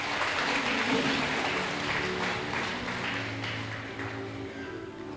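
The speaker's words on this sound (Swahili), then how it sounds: "Tumpe makofi anapokuja huyo mama." A church congregation breaks into applause, a dense, sustained wash of clapping that fills the whole stretch and eases off slightly toward the end.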